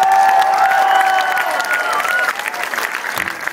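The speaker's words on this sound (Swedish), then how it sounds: "En varm applåd för Mats Hellqvist." A warm round of audience applause at a live show in a club, dense clapping from a close crowd with a bit of cheering, holding steady and thinning slightly toward the end.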